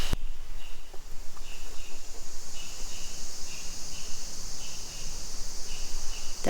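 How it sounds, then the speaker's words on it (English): A cicada buzzes in the heat of summer, a steady high drone with short louder pulses repeating over a soft outdoor background. "I'm listening to the sound of a buzzing insect. It looks like a huge fly, and it's called a cicada."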